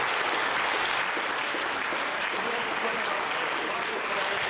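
Applause fills the Mission Control Center at the moment the James Webb Space Telescope separates, a dense, steady wash of clapping heard at moderate distance for the whole stretch.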